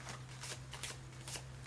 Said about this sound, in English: All right, and then I'm gonna shuffle.